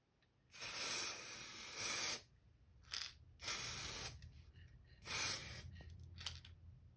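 A spray can applies KBS Diamond Finish clear coat to a custom-painted crankbait, giving three close, sharp hissing bursts of about one to two seconds each, plus a shorter puff, with quiet gaps between.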